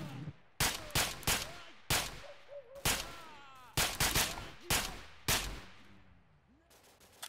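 Repeated gunfire from the S.T.A.L.K.E.R. Misery 2.2.1 mod in a pseudogiant-hunting playthrough: about ten loud, sharp shots fired in uneven bursts with short echoing tails, a few faint voice-like sounds underneath.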